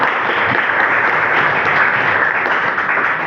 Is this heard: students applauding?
yes